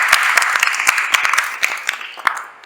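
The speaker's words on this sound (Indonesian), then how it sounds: "aplaus buat Mas Riyandani." Applause from a classroom audience at an automotive engineering class, a steady close clatter of hands clapping for a couple of seconds that fades toward the end.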